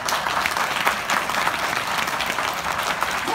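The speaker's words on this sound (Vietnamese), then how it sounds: "một lần nữa xin một tràng pháo tay cho hệ thống số 7" Audience applause at a business presentation event, a steady burst of many hands clapping at moderate loudness, continuous and without talk.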